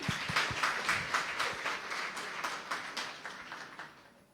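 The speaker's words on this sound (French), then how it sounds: "Merci à vous, ça s'applaudit" An audience claps after a speech on industrialisation, the dense applause loud at first with distinct sharp claps, then gradually thinning and fading over a few seconds.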